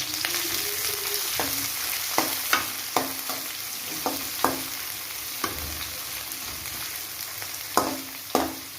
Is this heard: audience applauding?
no